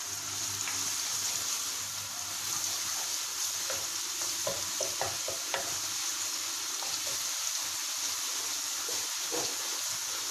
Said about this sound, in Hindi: ऑयल गर्म हो जाए तो इसके अंदर हम लहसुन डाल देंगे।